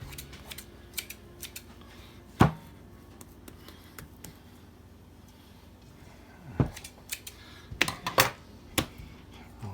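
Bread dough for homemade bread being cut by hand, heard as a few sharp snips and clicks, one near 2.5 seconds and a cluster toward the end, over a quiet background.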